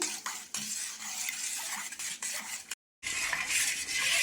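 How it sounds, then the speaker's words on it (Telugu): Jaggery being stirred in a pot until it melts, with a spoon scraping and clinking against the metal in quick repeated strokes, close and fairly loud, broken by a brief silent gap. "బెల్లం బాగా కరిగేంత వరకు మిక్స్ చేసుకున్నాం"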